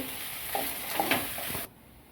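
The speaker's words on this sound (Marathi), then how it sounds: "चांगलं हलवून घ्यायची भाजी" A spoon stirs vegetables in a hot pan while cooking Maharashtrian kadhi vade. A few soft scraping strokes sound over a steady sizzling hiss, which cuts off abruptly near the end.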